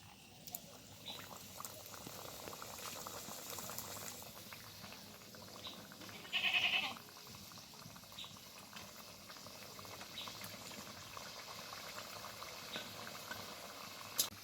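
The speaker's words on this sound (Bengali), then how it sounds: "এবারে বাকি এই কচুরিগুলোও ভেজে নেব।" Potato-stuffed khasta kachoris deep-frying in hot oil, a steady low bubbling and crackle running through the whole stretch with one brief brighter burst midway; no voices.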